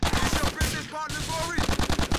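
Rapid automatic gunfire in GTA 4: The Ballad of Gay Tony, loud and close, bursts with a short gap partway through and then a steady stream of shots to the end.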